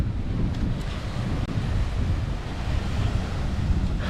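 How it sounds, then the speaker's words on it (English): Steady breezy wind buffets the microphone on a Thai island beach at Koh Mook, a constant low rumble with faint surf washing behind it and no voices. "it's a little bit breezy"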